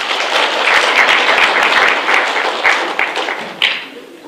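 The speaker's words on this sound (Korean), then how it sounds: "박수 부탁드리겠습니다" A conference audience at a tech talk claps loudly for an incoming presenter, a dense burst of many hands that holds strong, then thins out and fades with a few last claps.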